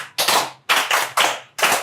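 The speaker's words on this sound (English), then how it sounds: "Give her a round of applause." Applause in four quick bursts, each a loud wash of clapping that swells and fades, with short gaps between them.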